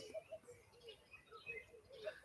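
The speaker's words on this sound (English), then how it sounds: "yes, there's so many birds here" Birds in a residential neighborhood give short, faint chirps and tweets scattered through the clip, some distant, over a quiet background.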